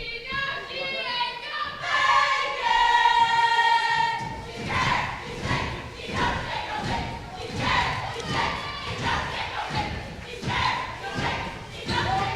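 A cheer team chants at a varsity basketball game, rhythmic crowd voices rising and falling in a steady beat over the gym's echo, with thumps from the court underneath.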